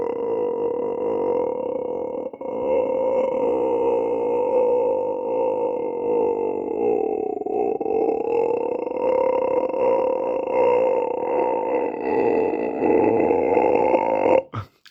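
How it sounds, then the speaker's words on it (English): One long, loud, sustained burp, made in a hotel, drones steadily at close range for about fourteen seconds before cutting off. "I swear I'll burp right now for you"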